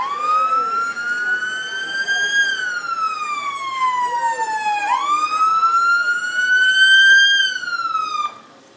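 A rescue vehicle siren wails loudly and close by at a fire department auto extrication demonstration, its pitch sweeping down and back up in long slow cycles before cutting off at the end.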